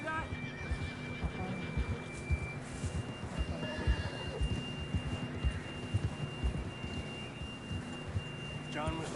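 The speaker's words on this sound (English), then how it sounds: "John was riding that horse when we left Blackwater" A horse in the video game Red Dead Redemption 2, in a snowy setting, whinnies in brief bursts over a dense, steady game soundscape with faint hoof clops and a thin sustained tone, with a voice murmuring in the background.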